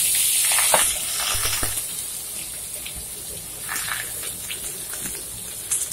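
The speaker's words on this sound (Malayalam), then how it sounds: "ഇനി ഇതിൻ്റെ അകത്തോട്ട് നമുക്ക് ഈ സവാളയും പച്ചമുളക് കീറിയതുകൂടെ ചേർത്ത് കൊടുക്കാം." Sliced onion and slit green chillies hit hot oil in a pan with curry leaves, setting off a steady, close frying sizzle with a few splashy bursts, and no voices over it.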